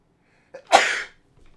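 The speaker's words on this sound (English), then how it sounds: "Was that a sneeze?" One sharp sneeze close to a podcast microphone, preceded by a quick inhale and fading into quiet afterward.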